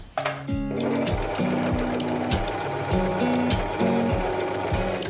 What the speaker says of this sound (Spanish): vamos a sostener suavemente el hilo para que no se cruce con las puntadas que va a empezar a realizar